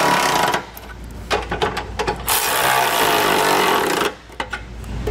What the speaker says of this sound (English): So I'm going to go ahead and get these all tightened down.